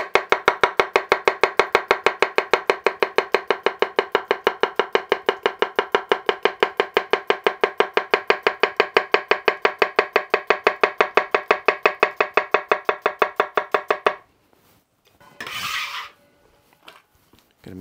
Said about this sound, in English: And here's the tap chop.